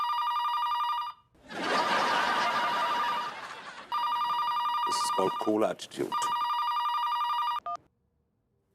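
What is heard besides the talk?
telephone ringing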